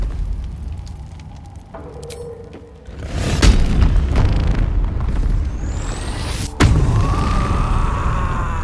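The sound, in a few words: flaming sword spell being conjured in video game Baldur's Gate 3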